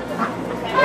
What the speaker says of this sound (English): They're ducks and geese and...